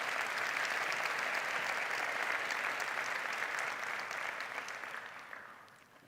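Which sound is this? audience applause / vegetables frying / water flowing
audience applause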